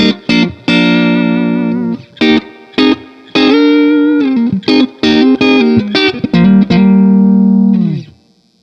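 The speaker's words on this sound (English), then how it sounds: "Here's the signal just through the Fender Super Reverb here." An electric guitar runs straight into a Fender Super Reverb amp, playing a loud, clean, sustained melodic phrase of ringing single notes and short bends, with brief gaps between runs.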